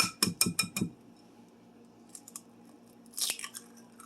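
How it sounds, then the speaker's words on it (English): Eggs cracked one after another into a bowl for a pantry dessert: a quick run of sharp, close cracks in the first second, then quiet with a faint clatter of a dish or utensil later. "Go ahead and crack in the eggs."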